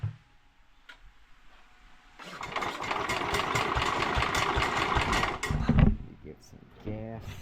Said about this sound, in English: I got this thing to run a little better. I mean, I'll start it up here